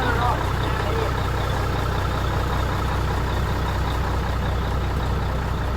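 A truck engine idles steadily throughout, a constant low rumble held at an even level with no breaks, close by.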